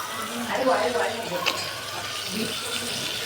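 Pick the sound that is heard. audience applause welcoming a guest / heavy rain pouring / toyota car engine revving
heavy rain pouring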